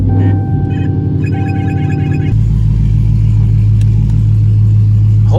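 A 2021 widebody Dodge Scat Pack running on E85 rumbles loudly up close, a deep idle that swells into a heavier, louder drone partway through.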